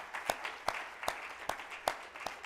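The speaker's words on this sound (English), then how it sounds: "So please give all of them a huge, huge round of applause." Applause at a 100th birthday celebration for Sri Sathya Sai Baba, heard as sparse, evenly spaced claps roughly every half second over a low hall murmur, with no speech.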